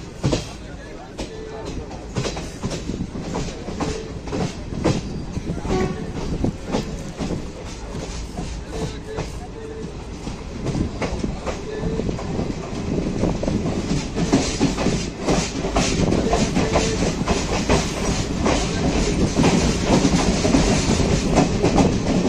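The Ganadevta Express, running from Howrah to Rampurhat, rolls between Bolpur and Prantik with a continuous loud rumble and steady wheel clatter over the rails, heard from inside the train, with faint voices now and then.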